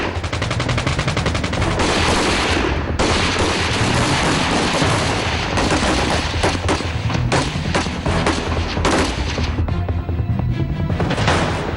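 Intense gunfire rips through a reconstructed commando raid on militant camps, with dense bursts of automatic and rifle fire and heavy booms overlapping continuously at close range and loud.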